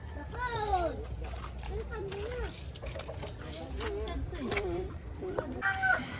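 Chickens cluck and squawk in short, repeated calls mixed with other bird chatter, while voices talk over steady background noise.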